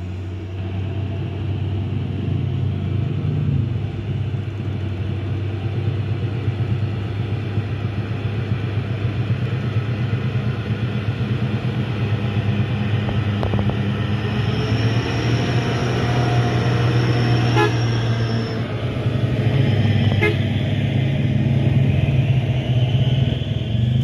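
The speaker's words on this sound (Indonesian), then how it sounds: "truk Puso yang warna hitam sedang memutar" A heavy truck engine rumbles continuously at a steady, loud drone on a steep hill, with faint higher whines and clanks passing through.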